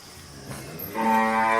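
Gir and Kankrej cows at a farm entrance, one loud close moo rising and holding tonally over the last half second after a softer lowing start, no talk.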